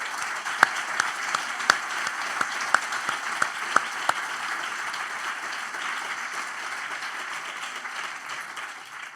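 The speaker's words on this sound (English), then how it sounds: "So I hope we can all give our sponsors a great round of applause." An event audience gives sponsors a steady round of applause, dense crowd clapping sustained throughout with a few louder individual claps standing out near the start, no talking over it.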